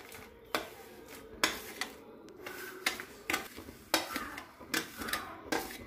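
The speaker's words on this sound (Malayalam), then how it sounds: "ഇനി ഇതിലേക്ക് നമുക്ക് റവ ഇട്ട് കൊടുക്കാം," Semolina is stirred into boiling water in a pan over a medium flame for rava kesari, with repeated scraping and clinking of a spoon against the pan at an uneven rhythm, close and fairly quiet, no talk.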